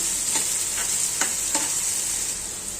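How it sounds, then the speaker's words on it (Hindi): Finely chopped onions fry in hot oil with a steady, bright hiss, and a few soft scrapes come through as they are stirred. "इसे अच्छे तरीके से मिला देंगे"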